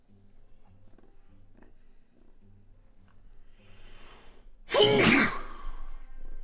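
One loud, sudden sneeze bursts out near the microphone after a stretch of quiet, low talk, then fades quickly.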